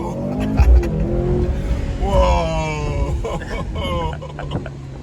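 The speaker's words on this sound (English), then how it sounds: "So we're about to do race start for the first time." A Mercedes-Benz C43 AMG sedan doing a launch-control race start: the engine revs, then surges through rising acceleration with gear shifts and some tire noise, loud and close from inside the car, with voices talking over it.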